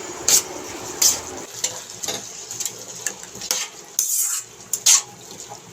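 Snake gourd pieces stirred in a curry pan, with a spoon scraping and clinking against the metal at irregular intervals, some sharp knocks standing out over a faint background.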